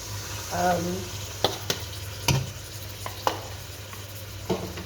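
Tomatoes go into a pan of sizzling lamb, with a soft steady sizzle broken by several sharp clacks and scrapes of stirring, and a brief voice near the start.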